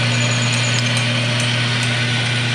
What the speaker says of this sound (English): So I'm going to probably drill, I think with about a 3/16 drill, maybe even 3/20.